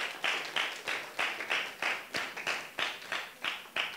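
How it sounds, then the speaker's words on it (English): A lecture audience claps steadily in a hall, with rhythmic, even rounds of applause sounding close and moderately loud. "I'm glad you clapped"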